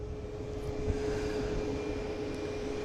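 A fixed-wing airplane on the roll down a runway for takeoff, heard as a steady, broad engine roar with a faint sustained whine, at moderate distance and holding level throughout.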